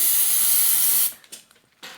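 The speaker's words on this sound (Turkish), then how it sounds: "Şimdi sprey sıkacağız daha iyi olması için." Aerosol spray can fired in one long continuous hiss lasting about a second, close and loud, then a few short faint clicks and rustles as crafting with glue for a homemade spinning prize wheel continues.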